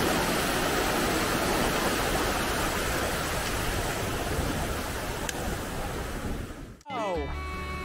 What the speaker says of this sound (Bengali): জলের স্রোত দেখুন একবার, অসম্ভব আওয়াজ জলের।